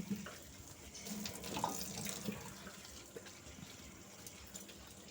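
Tap water runs and splashes quietly as taro stems are washed in a kitchen sink, a soft steady stream with light handling noises and no speech.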